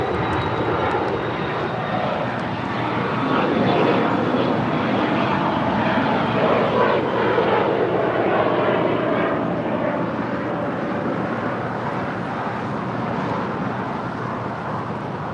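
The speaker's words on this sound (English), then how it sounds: "That is a Bombardier Challenger departing to San Diego McClellan Palomar Airport." At LAX, a Bombardier Challenger jet departs for San Diego's McClellan-Palomar Airport, a loud, steady engine roar and rushing whine holding for about fifteen seconds with no talk.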